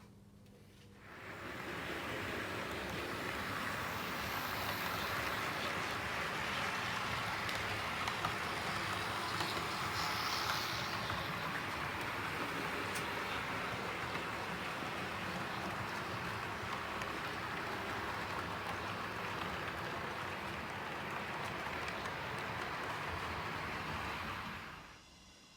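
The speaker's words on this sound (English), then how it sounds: "I'll have some trains running just for the people that like to see just the trains running as well." Model trains run on a model railway layout, making a steady, continuous rolling rumble and hiss that holds at an even level for about twenty seconds with no talking.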